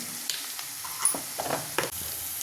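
Sliced onion fries in a pan with salt, a soft steady sizzle punctuated by a few scraping stirs of a spoon against the metal.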